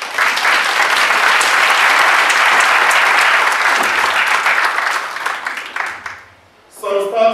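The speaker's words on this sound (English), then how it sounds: "Please give them a round of applause." Loud, sustained crowd applause at a Freetown mayoral debate, welcoming the candidates, dense and close for about six seconds before dying away, after which a voice starts to speak.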